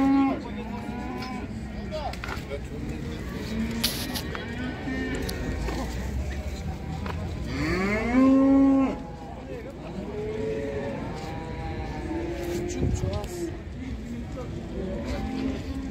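Cattle at a livestock market: one prominent, close moo rises and falls midway, with fainter lowing around it against constant market chatter and background bustle.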